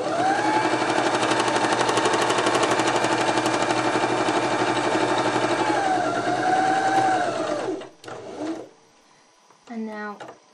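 A sewing machine stitching fabric for a tote bag runs in a fast, steady mechanical rattle for about eight seconds, then stops, followed by brief handling noises and a short burst of stitching; a voice speaks over it.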